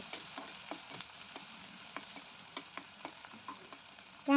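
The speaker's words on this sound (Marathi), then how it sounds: "बारीक कट केलेला कांदा घालून घ्यायचा कांदा चांगला गुलाबी रंगावर परतून घ्यायचा आहे" Finely chopped onion sautés in a pan for a Sankranti mixed-vegetable bhaji, giving a quiet, steady sizzle broken by soft, regular clicks of stirring, with no voices.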